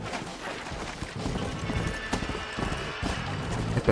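Horse hooves clatter and a horse whinnies in the Red Dead Redemption Undead Nightmare video game, amid a dense, continuous game soundscape with a sharp crash partway through.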